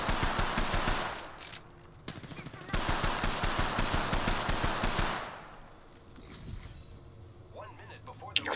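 Rapid bursts of Kraber sniper and automatic gunfire in a first-person shooter game, several loud volleys with sharp repeating impacts, then quieter pauses and scattered effects near the end.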